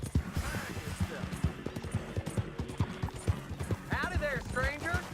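Horse hooves clip-clopping in the video game Red Dead Redemption 2, a steady close trotting rhythm with a brief whinny near the end, under voices talking.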